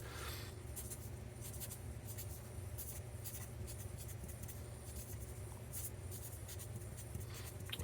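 A Sharpie marker scratches across scrap white paper in quick, separate strokes, faint squeaky scribbles over a low steady hum.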